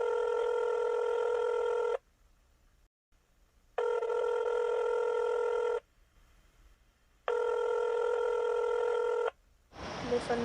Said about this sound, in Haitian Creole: Le téléphone n'a sonné sans réponse.